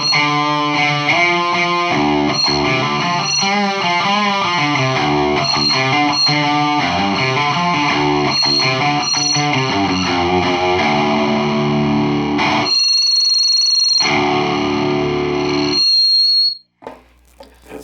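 Electric guitar runs through a Randall Diavlo RD1H amp with a Tube Screamer pedal, giving loud distorted playing that gives way to a steady buzzing, whining noise when the strings fall quiet, then cuts off near the end.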